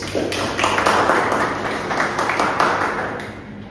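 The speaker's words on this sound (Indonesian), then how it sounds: "Beri tepuk tangan terlebih dahulu." Seminar audience applauding at a legal ethics and AI event, a steady wash of many hands clapping that holds for several seconds before tapering off.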